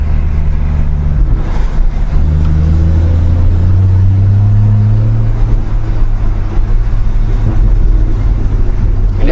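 Car engine droning steadily while driving, a loud continuous low rumble with rising and falling pitch as the revs change, close and alone without voices.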